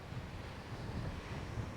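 A strong, hot panhandle wind blows around an outdoor honey harvest on a 105-degree day. It comes as a continuous low roar buffeting the microphone, with no voices.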